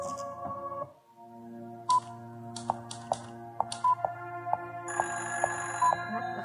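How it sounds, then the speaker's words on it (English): An old-style telephone rings in the video game Fran Bow, repeated bright electronic trills over a soft sustained musical drone, ending in a higher held tone. "The phone's ringing."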